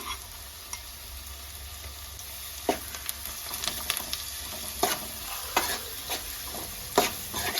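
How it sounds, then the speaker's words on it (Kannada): Onion with ginger-garlic paste frying in a pan for egg rice, a steady close sizzle broken by scraping stirs and spatula clinks, no voices. "ಇವಾಗ ಶುಂಠಿ ಬೆಳ್ಳುಳ್ಳಿ ಪೇಸ್ಟ್ ಹಾಕೊಂಡ ತಕ್ಷಣ ನಾನು ಒಂದು ಮೂವತ್ತು ಸೆಕೆಂಡ್ವರೆಗೂ ಇದನ್ನು ಫ್ರೈ ಮಾಡ್ಕೊಂಡಿದ್ದೀನಿ"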